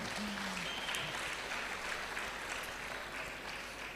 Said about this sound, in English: it's okay to clap please if you want to clap